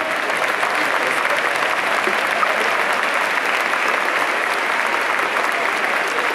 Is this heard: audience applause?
yes